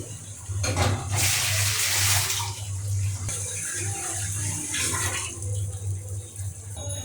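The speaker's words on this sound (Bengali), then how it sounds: "একটু জল দিয়ে দেবো মশলাটাতে" Water poured into spice paste frying in a pan for a Bengali egg bora curry, a loud rushing splash and hiss near the mic, with a quieter second surge of sizzling a few seconds later.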